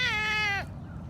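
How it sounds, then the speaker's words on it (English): A single clear, close meow from a Savannah cat, a drawn-out rising then falling cry lasting just over half a second and heard alone. "Simba is a Savannah cat"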